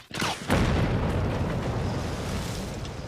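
Controlled explosion set off by Army bomb disposal experts: a sudden loud blast that rolls into a long, dense rumbling roar lasting several seconds, with no talk over it.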